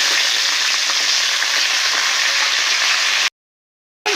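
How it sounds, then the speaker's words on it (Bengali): Potatoes and cauliflower florets frying steadily in hot oil, a dense continuous sizzle close up, cutting off abruptly into brief silence before resuming. "ফুলকপিগুলো 5 মিনিট ভেজে নিলাম।"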